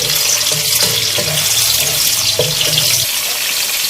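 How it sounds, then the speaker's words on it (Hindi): A medium onion, finely chopped, fries in hot oil for aloo methi, giving a continuous bright sizzle with a few stirring clinks, close and loud before it cuts off abruptly. "प्याज को हमें यहाँ पे अच्छे से फ्राई करना है।"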